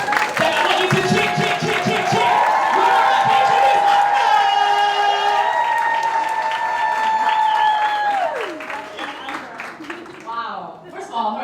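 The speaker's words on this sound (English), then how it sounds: "stamp your feet, let's go, stamp. And then I want you to clap. Then I want you to cheer." A live audience at an event in Dubai cheers and claps loudly, with sustained whoops and shouting voices rising over a broad crowd roar before it breaks up into scattered noise.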